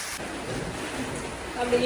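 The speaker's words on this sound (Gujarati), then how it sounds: "ફૂલ વરસાદ શરૂ થઈ ગયો છે" Heavy rain falls at a cow shelter as thunder rumbles low and broad beneath the steady hiss of the downpour.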